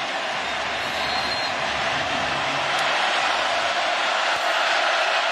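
Football stadium crowd at Florida State versus Florida in 2017 college football, a dense, continuous wall of roaring and cheering spectators, loud and steady with no individual voices standing out.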